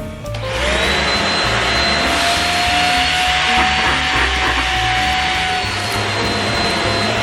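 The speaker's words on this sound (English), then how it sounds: "Suction's really good." A Shark Rocket Ultra Light vacuum cleaner fitted with an upholstery brush runs with a loud, steady whooshing roar and a high whine, spinning up at the start and holding constant, close by.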